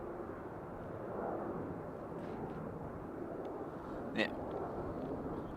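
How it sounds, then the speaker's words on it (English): Aer Lingus airliner arriving from Geneva at Dublin Airport, a broad steady roar from the distant jet with a brief sharper burst near the end, and a voice speaking briefly. "This is Aer Lingus from Geneva"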